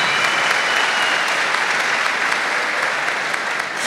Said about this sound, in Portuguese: Vamos aplaudir esses homens aí.